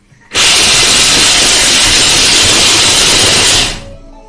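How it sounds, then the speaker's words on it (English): Almonds and cashews are blitzed in a Thermomix at speed 6, producing a loud, close, steady whirring roar that starts abruptly, holds for about three seconds and then winds down. "we're going to blitz this down, and it's quite a rough chop"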